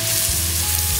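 Onions and spices sauté in hot oil for soya chunk biryani, a dense continuous frying sizzle with a low steady hum beneath it, close and loud, no voices.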